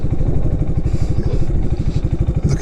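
A motorcycle engine idles in third gear during a test of a beta tune, its steady, loud, throbbing low rumble close by with a slight rise near the end.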